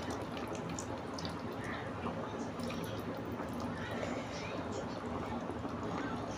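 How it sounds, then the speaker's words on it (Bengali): Cooking oil is poured into a pot of beef curry on the stove, giving a steady, dense liquid rush that runs unbroken for several seconds at an even level. "এখন দিয়ে দিলাম পরিমাণ মতো তেল।"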